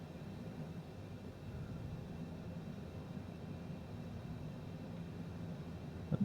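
Cessna Citation CJ4 jet in flight, a faint steady broadband rumble and hiss of cabin and engine noise, constant and low with no talk.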